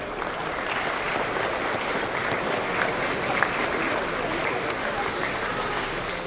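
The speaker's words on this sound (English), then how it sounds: "please help me give them a big round of applause" Applause from a room full of conference attendees honoring a think-tank's staff at a Texas policy orientation event, steady and dense throughout with a few sharper claps standing out.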